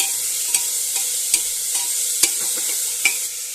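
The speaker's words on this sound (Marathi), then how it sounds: "थोडेसे हलवून घेऊया." Spoon scrapes and knocks against a pressure cooker at a steady, unhurried pace while stirring bitter gourd, over a soft background sizzle, close by and without any talking.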